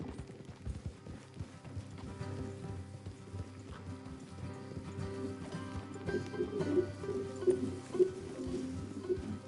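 Horses clip-clop along at a steady pace in Red Dead Redemption 2, the hoofbeats fairly close over a low rumbling game soundscape, with faint rain-like patter and no talk.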